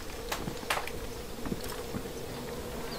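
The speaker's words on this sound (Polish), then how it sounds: "jeszcze muchy tu łażą. Znaczy latają, chciałem powiedzieć" Flies buzzing in the video game Far Cry 5, several short whining passes close by over a steady outdoor ambience.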